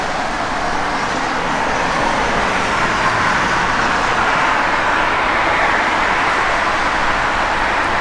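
A 1953 Ford F1 truck engine runs steadily with a constant, loud rumbling drone and no change in pace, close by with no voices over it.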